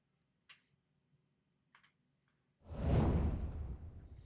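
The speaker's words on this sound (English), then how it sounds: "So he shuffles." A few soft clicks, then a quick whooshing swish of cards being shuffled in a digital Magic card game, fairly close and alone.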